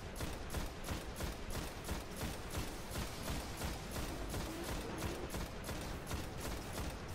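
Steady, rapid automatic gunfire in the Destiny Vault of Glass raid, evenly spaced shots repeating close and loud for the full length with no speech.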